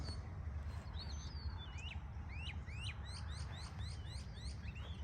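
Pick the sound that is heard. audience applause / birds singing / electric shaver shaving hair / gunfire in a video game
birds singing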